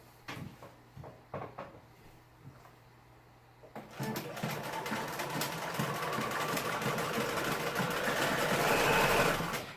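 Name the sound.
Bernina 1080 sewing machine stitching with lengthened stitch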